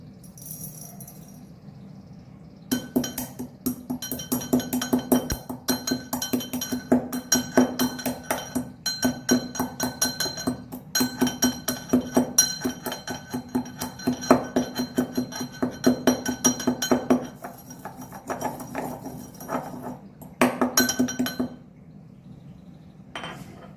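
Black peppercorns are coarsely pounded in a mortar with a pestle, giving a steady run of close, sharp clinking and grinding strikes for about twenty seconds with brief pauses.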